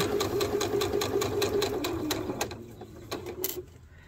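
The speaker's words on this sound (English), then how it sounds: "so I'm just sewing on the lines." A sewing machine stitches half square triangle quilt pieces, its needle running in a fast steady rhythm for most of the stretch before slowing and stopping near the end, close and clear with no talk.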